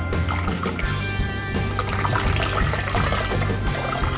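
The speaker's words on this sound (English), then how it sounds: "now we're gonna rinse it off one more time with the distilled water" A Damascus steel knife is rinsed under running distilled water, a steady close splash and trickle that continues without a break and with no talk.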